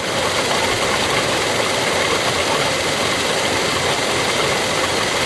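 A Toyota engine running during a power steering purge with brake fluid: a loud, steady mechanical hum and clatter close by, constant for the whole stretch.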